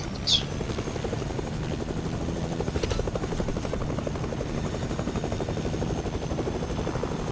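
A helicopter's rotor thumps in the video game Fortnite, a steady, continuous drone at moderate loudness, with a brief faint chirp near the start.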